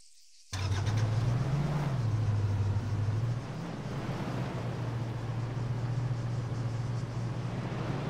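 A car in the Arma 3 video game drives steadily, its low, even engine drone starting abruptly and continuing loud and close with a brief pitch rise early on, no voices over it.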